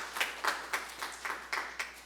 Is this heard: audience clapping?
yes